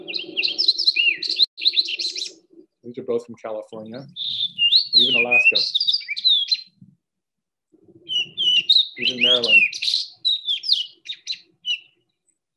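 A fox sparrow sings, its clear whistled phrases mixing in imitations of an American robin and a flicker, with someone talking between and over the song.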